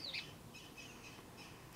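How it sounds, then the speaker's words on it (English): A bird chirps once close by in a garden during late spring, followed by faint, far-off calls over a quiet background. "Birds."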